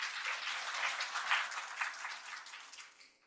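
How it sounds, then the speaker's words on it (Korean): An audience at a nephrology medical symposium applauds to welcome a lecturer, a dense, even patter of many hands that holds steady for a few seconds and then tapers off and fades. "박수로 맞아주시기 바랍니다."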